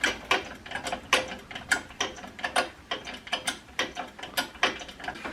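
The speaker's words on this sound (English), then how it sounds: "I'm pumping away merrily now, and it's not moving very quickly, is it?" A hand pump lever worked steadily to drive a press gives a rapid, regular series of sharp ratcheting clicks, about two strokes per second, close by and clear with no talk over it.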